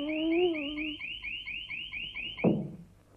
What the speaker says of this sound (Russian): между прочим, сигнализация.